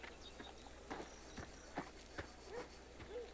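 Horse hooves clip-clopping in the Mafia: The Old Country video game, a steady walking rhythm of distinct, fairly faint hoof strikes about every half second against quiet ambience.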